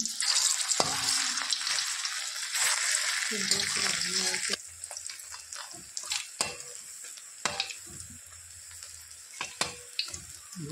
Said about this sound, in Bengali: বড়গুলোকে সুন্দর করে ভেজে নেব।